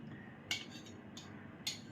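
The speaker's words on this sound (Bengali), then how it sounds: "একটা হলো চামচ দিয়ে বার করতে হবে, শীতকাল তো ঘিও জমে তাল হয়ে গেছে" A spoon scrapes solidified, winter-hardened ghee out of a container in three short, quiet scraping strokes against a low background hum.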